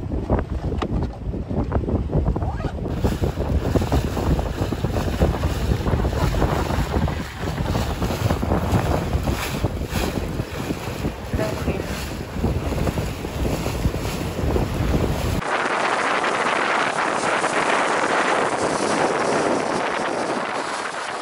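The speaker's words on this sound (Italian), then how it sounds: "abbiamo preso il gommone, abbiamo iniziato il tragitto appunto per arrivare nell'isola e fare questa gita" Inflatable boat ride out to the island of Mal di Ventre in Sardinia, with steady, loud wind buffeting the microphone over engine and water rush throughout, and a brighter hiss of spray and wind near the end.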